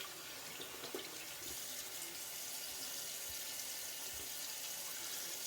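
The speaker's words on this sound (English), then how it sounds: "wash the stuff off my hands, and then we'll get into it" Steady hiss of tap water running into a sink while hands are washed, continuous and close, with no talk over it.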